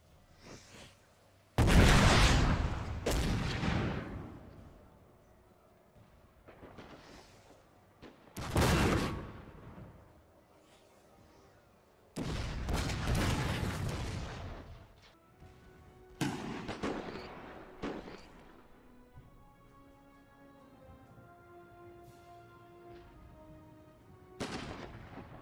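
Cannon fire in Napoleon: Total War, a series of loud, booming blasts at irregular intervals, some close and heavy, others more distant, each trailing off into rumbling echoes amid quieter battlefield ambience.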